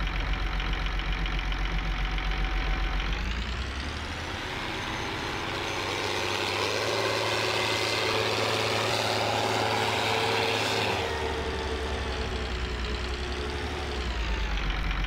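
A Belarus MTZ 1221 tractor in Farming Simulator 19 idles with a steady, droning diesel rumble, dipping to a lower, softer hum in the middle before returning to the fuller idle; no talk over it.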